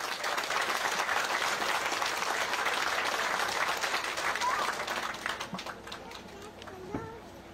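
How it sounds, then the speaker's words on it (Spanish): A crowd gathered for a road handover ceremony in Placer de Toachi–Santa Rosa de Mulaute bursts into loud, sustained applause to welcome the prefect, the dense clapping fading out toward the end. "Recibimos con ese fuerte aplauso"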